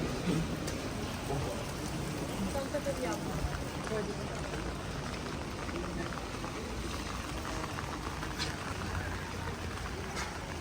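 Steady rain falls over the old town of Lviv near the market square, a continuous broadband hiss of drops on pavement and surfaces, even and fairly close throughout, with faint background activity.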